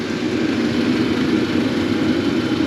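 An HCALORY portable diesel heater running at its maximum level indoors on a cold day, a steady low mechanical drone with a constant combustion hum and faint high whine, close and unbroken.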